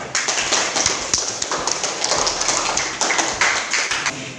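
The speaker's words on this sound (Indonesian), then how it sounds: "Tepuk tangan untuk kita semua." A classroom of students claps their hands together, a dense, brisk burst of many close claps that holds steady for several seconds before tapering off.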